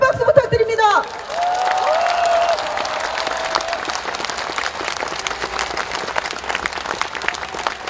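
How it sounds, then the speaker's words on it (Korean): A large crowd at a nighttime candlelight vigil for Sewol ferry victims claps steadily with some cheering and whoops. A loud voice rings out at the very start, then fades under the sustained applause. "우리 편을 들어주는 이들에게 다시 한번 큰 박수 부탁드립니다."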